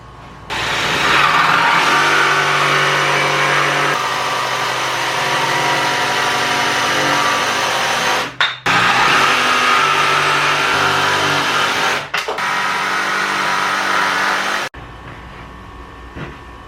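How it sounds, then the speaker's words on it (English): A jigsaw cuts wood during a budget rolling workbench build, a loud, steady buzzing motor that runs for about fourteen seconds with two brief dips before stopping. "Jigsaw time."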